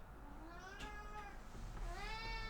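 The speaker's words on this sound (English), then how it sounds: "You're gonna hear my cat meowing in editing, just FYI." A cat meows several times in drawn-out, rising and falling cries, fairly close, over a low steady background hum.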